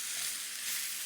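Lamb pieces and a bone brown together in a pan, making a steady, dense, close sizzle with no break.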